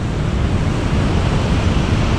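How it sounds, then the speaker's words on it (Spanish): The Condor Machay waterfall and its river in Ecuador make a steady, loud, broadband roar of rushing water. It is close and unbroken, with no voices. "Ahí sigue el río. Y acá está la cascada."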